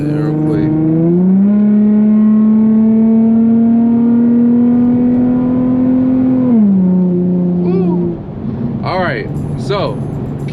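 An Infiniti G35 with a DE engine pulls hard, its engine note climbing and holding as it accelerates, then dropping sharply around seven seconds before settling into a lower, rougher drone.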